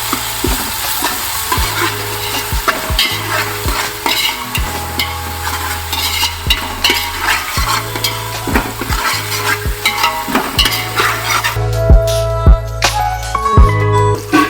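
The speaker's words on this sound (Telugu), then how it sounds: "అల్లం వెల్లుల్లి పేస్ట్ అనేది చాలా మంచిగా వేపుకోవాలి ఫ్రెండ్స్ ఆయిల్లో" Ginger garlic paste fries in hot oil for fish curry, a steady close sizzle broken by repeated scraping stirs of a spoon against the pan, with no talk.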